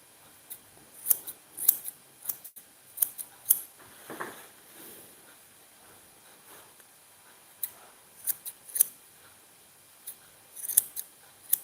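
Scissors snip at an elderly terrier's fur near its ear, crisp close metallic cuts arriving in short irregular bursts of one to three snips separated by quiet pauses.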